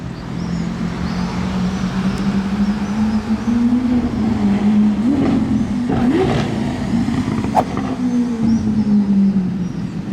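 A Pagani Zonda's engine drone rises and falls as it shifts down, with blips of revs, heard from inside over constant road noise.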